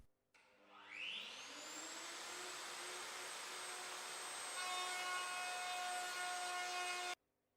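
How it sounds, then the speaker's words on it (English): Router cutting a female joint along the edge of a kitchen worktop, a steady high whine that spins up and then holds at a constant loud pitch for several seconds before cutting off abruptly. "The female joint on the worktop edge has to be formed in several passes of the router"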